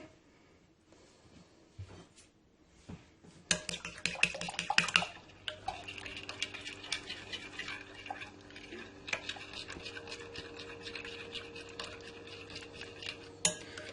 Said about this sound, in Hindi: इस तरीके से आप इसको अच्छे तरीके से मिक्स कर दें